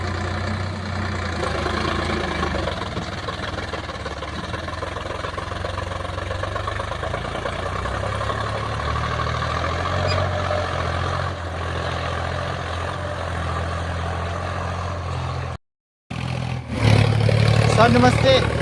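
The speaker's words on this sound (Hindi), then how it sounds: "सर, जैसे आपके खेतों में अभी ट्रैक्टर लगा हुआ है" A tractor engine runs in a farm field in Chhudra village while the soil is prepared for a maize crop, a steady mid-pitched rumble, close and continuous, with a brief dropout near the end.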